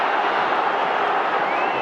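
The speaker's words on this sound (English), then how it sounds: "Giant cheer from the Salopians behind Simon Royce's goal" A football crowd of Shrewsbury fans roars a sustained cheer from behind the goal at a League Two play-off final against Gillingham, broad and steady throughout.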